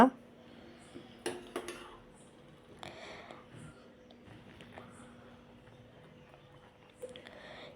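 A spoon stirs flaxseed gel in a bowl, giving faint scattered clinks and scrapes against the dish in a quiet room.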